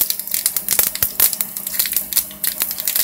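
Fenugreek seeds crackle and sizzle in hot oil while being tempered for a coconut milk curry. Dense, irregular popping and spitting continue up close for several seconds with no talk.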